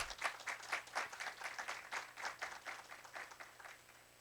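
An audience at a panel on women in digital investigation and criminal justice applauds for a judge, giving steady, moderately distant clapping that tapers slightly and stays free of speech.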